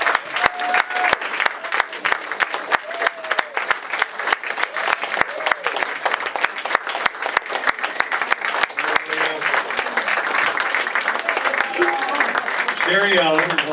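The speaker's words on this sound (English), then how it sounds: "Let's have a round of applause for the cast." An audience gives sustained applause for the cast of a live radio play. Crisp individual claps stand out, with voices and a few whoops mixed in, and the clapping grows denser near the end.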